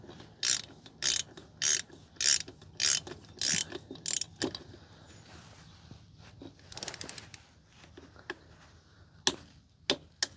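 Ratcheting clicks from a wrench tightening a locking nut on a Honda CRF150R dirt bike during a big wheel conversion come in a steady series of loud bursts, then scattered sharper clicks and clunks toward the end.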